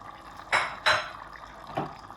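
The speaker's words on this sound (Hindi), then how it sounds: "यहाँ पे मैं 1 कप ऑयल डाल दूंगी इसके अंदर, और साथ ही बैंगन डाल दूंगी इनके अंदर" Oil and pieces of eggplant going into a pan in two close splashy bursts followed by a softer third, fairly near and with no talking over them.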